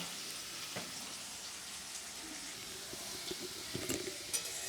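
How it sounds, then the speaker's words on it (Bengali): Potatoes frying in hot oil in a pan for a potato and pumpkin curry, a steady soft sizzle running throughout with a few light scrapes and clinks near the end. "আমার আলুগুলো ভাজা হয়ে গেছে, এবার আমি এগুলো তেল থেকে তুলে নিচ্ছি"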